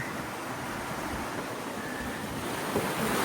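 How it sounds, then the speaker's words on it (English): Wind rushes steadily over a sailboat at sea while waves wash against the hull, a dense, continuous roar with microphone buffeting and no talking. "Wind's picking up again after a flat night."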